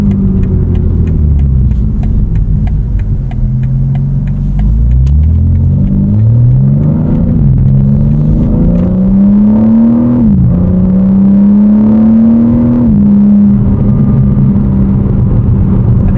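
A BMW M4 CS engine accelerating hard, its loud, close rumble climbing in pitch through the gears, with a few brief dips between shifts, continuous and without talking.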